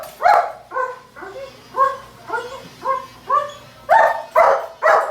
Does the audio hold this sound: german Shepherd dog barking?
yes